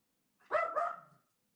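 A single dog gives a short, close bark that trails off into a softer, wavering tail lasting about a second, heard alone against silence.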